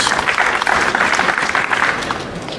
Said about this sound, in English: the crowd gives a nice, polite round of applause